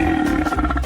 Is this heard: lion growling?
yes